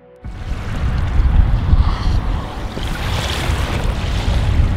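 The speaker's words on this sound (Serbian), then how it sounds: "Evo nas, pored Dunava, čuju se talasi" Waves on the Danube river washing along the bank, a loud continuous wash and rush mixed with gusting wind buffeting the microphone, no talking.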